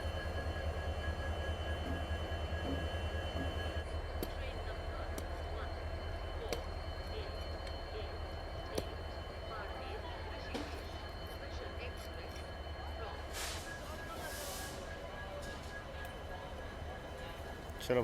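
Train hauled by a WAP-7 electric locomotive, number 39405, arriving on the Marudhar Express route: a steady low rumble and rolling rail noise builds throughout, with faint metallic clanks and a people speaking nearby.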